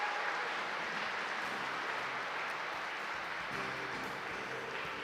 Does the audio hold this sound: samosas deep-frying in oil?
no